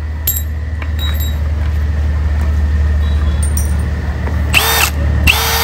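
Milwaukee 2804-20 cordless drill running steadily at close range, a constant motor whine throughout with a couple of brief higher-pitched bursts near the end, no talking.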